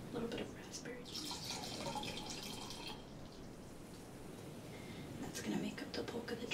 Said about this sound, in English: Now I'm going to pour over the ice a little bit of raspberry juice.